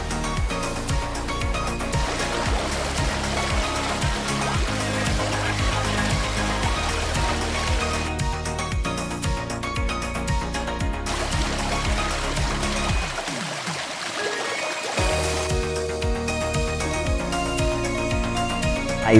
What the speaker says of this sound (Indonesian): menyeberangi sungai besar dengan banyaknya bebatuan.